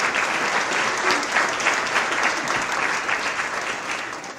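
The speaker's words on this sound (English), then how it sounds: "Can we give them one more round of applause?" Steady round of applause from a breakfast audience at a county chamber of commerce event, dense even clapping that fills the room and holds at full strength throughout without talk.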